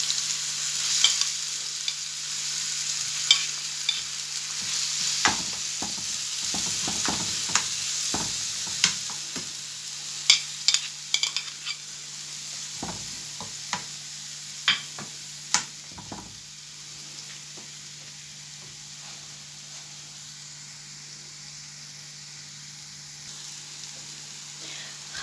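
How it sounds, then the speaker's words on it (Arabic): Onions sizzle and crackle in hot oil in a frying pan, a steady close frying hiss with scattered pops and stirring clicks throughout. "هنا حطيت الطاسة طبعا وحطيت فيها الزيت واستنيت لما الزيت سخن، وهننزل بالبصل"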